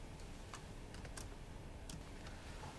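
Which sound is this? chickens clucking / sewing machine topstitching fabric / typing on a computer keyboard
typing on a computer keyboard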